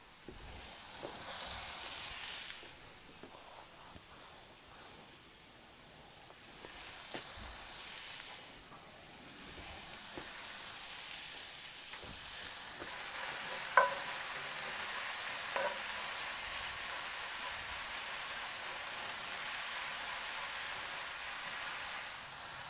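Jalapeños and bell peppers frying in a pan, with a steady sizzling hiss that builds and holds throughout, plus occasional soft stirring scrapes and clicks, no voices.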